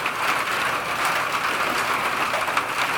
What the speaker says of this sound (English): Goes well with the rain, I guess.